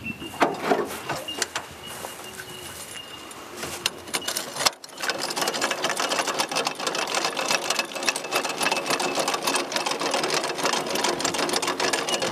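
A hand crank winds down the legs of a camper trailer, heard as a dense, fast ratcheting clatter that turns steady and continuous after a brief pause. It is close and fairly loud, with no talking over it.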